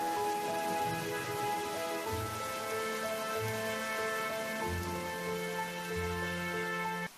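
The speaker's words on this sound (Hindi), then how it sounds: "इधर बारिश और भी तेज होने लगती है।" Heavy rain pours steadily with a constant hiss that runs through the whole stretch, mixed under soft, sustained background music.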